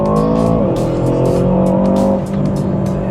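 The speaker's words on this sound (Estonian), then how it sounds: "Täna on meil testimiseks Aston Martin DBX 707." An Aston Martin DBX 707 drives hard, its engine a loud, continuous roar that holds a steady tone and then climbs slightly in pitch, with a hint of tyre noise and no talking.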